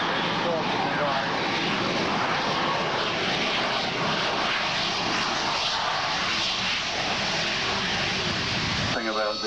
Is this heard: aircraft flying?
yes